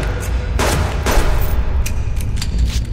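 Gunfire in the survival game Subsistence inside a cave base: a couple of loud sharp shots stand out over a steady heavy rumble, with further faint cracks trailing off in the background.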